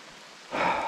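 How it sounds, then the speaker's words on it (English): Rain begins on a dense forest track at Bell Bird Creek in Binna Burra, a steady soft hiss that suddenly swells louder halfway through the short moment. "it's starting to rain"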